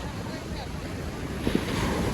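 Steady wash of water and waves at a Goa beach at night, with wind noise across the microphone, a few brief louder splashes near the end; no talking.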